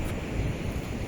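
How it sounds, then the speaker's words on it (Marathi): Arabian Sea waves washing against a jetty in Konkan, a steady broadband rush of surf with wind across the microphone, no voices. "समुद्राच्या कशा लाटा येत आहेत."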